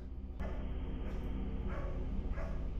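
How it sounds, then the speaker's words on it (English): A dog barks in a horror movie scene, several sharp barks spaced out over a few seconds against a low, quiet background. "You hear the dog barking."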